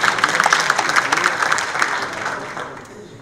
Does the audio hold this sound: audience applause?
yes